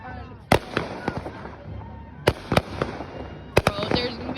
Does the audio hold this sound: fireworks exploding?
yes